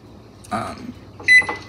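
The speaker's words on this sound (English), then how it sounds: "we are preheating our oven to 450 degrees" Kitchen oven being set to preheat to 450 degrees, giving a muffled button press followed by a short, bright electronic beep, close by.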